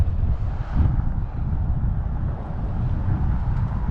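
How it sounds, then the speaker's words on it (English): Wind buffets the microphone in a continuous low rumbling roar while someone walks outdoors in Forest Park, St. Louis, steady for a few seconds with slight surges. "8 more minutes against the wind, guys."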